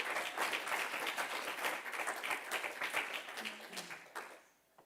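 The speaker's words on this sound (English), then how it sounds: "Round of applause for Jonathan, please." An audience at intern final presentations claps for a presenter, steady moderate applause for several seconds that dies away at the end.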